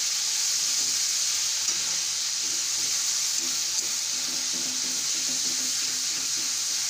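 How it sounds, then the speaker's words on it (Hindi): Ginger garlic paste frying in hot oil, giving a loud, continuous hissing sizzle that holds steady throughout, with faint stirring underneath and no voices. "ऑयल गरम हो गया, इसमें डालेंगे अदरक लहसुन का पेस्ट। कुछ सेकंड के लिए इसको भून लेंगे।"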